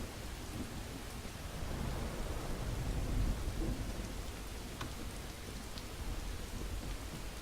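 Steady rain hisses through a thunderstorm in Skyrim with the Vivid Weather mod, low distant thunder swelling and rolling beneath the downpour, with no voices.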